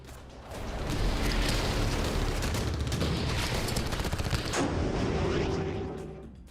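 A sustained roaring blast and crackling rumble follow a Russian drone attack on a military position with soldiers, loud and dense for several seconds before fading, with no talk.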